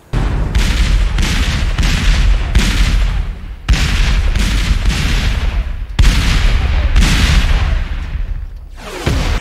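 Artillery bombardment from a Civil War battle scene in the film Gettysburg, loud, continuous booming cannon fire with overlapping blasts in rapid volleys, sustained and close throughout.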